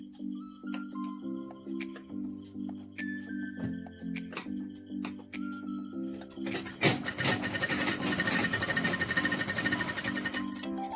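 A sewing machine stitches along both sides of fabric for gathers, humming with a steady, repeating mechanical pulse that swells into a louder, denser rattle partway through.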